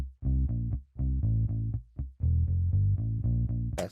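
Bass guitar track soloed from a rock mix, deep plucked notes ringing and decaying in a steady rhythm, up front and alone.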